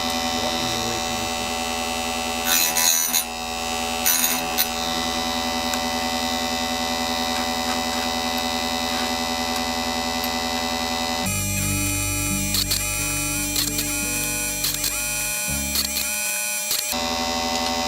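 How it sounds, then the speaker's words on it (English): An electric chainsaw sharpener grinds chain teeth with a steady humming whine, loud and close, broken by short grinding bursts and a shift in tone as each tooth is worked. "It doesn't take a lot of force to make the chainsaw sharpener work."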